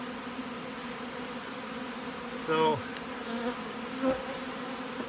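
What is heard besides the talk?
honey bees buzzing in a hive colony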